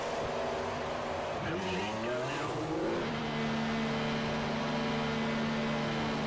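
An F1 race car in the F1 2014 video game slows into a pit stop at the Austria race, engine pitch sweeping down with a brief tire squeal, then settling into a steady pit-lane hum while a voice talks over it.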